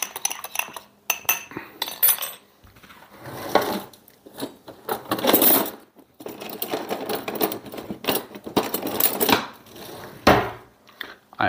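A spoon clatters in a small dish while chili lime rub is stirred together with lime juice for mahi mahi, giving irregular bursts of clinking and scraping with short pauses between them and no talking.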